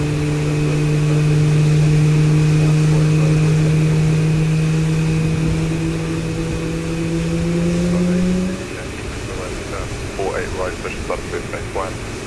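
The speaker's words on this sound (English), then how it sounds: "We have a good engine start." Boeing 737 MAX 8 jet engine spooling up after start in Microsoft Flight Simulator, a steady loud whine with strong tonal hum that drops away near the end, followed by clicking cockpit sounds.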